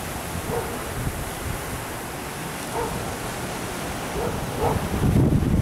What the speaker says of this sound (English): See if we can pick up another gust before we end this video.